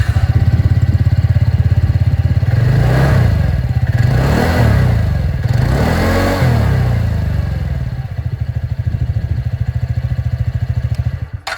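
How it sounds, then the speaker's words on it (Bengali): A 2026 TVS Ntorq 125 Race Edition scooter with a metallic muffler cover idles close by, its exhaust putting out a steady throbbing putter that rises through a few throttle blips before settling back to idle. "একবার আপনাদের এক্সস্ট সাউন্ডটা শোনাবো, কিন্তু হ্যাঁ, মাফলার কভারটা কিন্তু এখানেও বলতে পারেন মেটালিকই আছে।"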